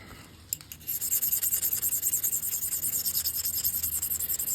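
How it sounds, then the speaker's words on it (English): Lap grinder grinding the edges of a flint dagger, a close, rhythmic rasping scrape that repeats in steady strokes after a short start. "I haven't been able to be real consistent scrunching my edges yet, so I grind them instead."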